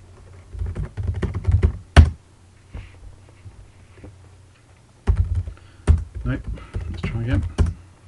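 Quick bursts of typing on a computer keyboard while a password is entered on a Windows workstation, two clusters of close, crisp key clicks separated by a pause, with a louder thunk of a key among them.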